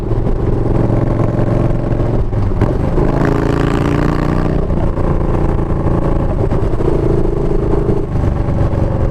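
A Harley motorcycle engine with a new short-shot exhaust pipe runs steady and loud up close, rising into a revving surge midway before settling back to a rumbling idle.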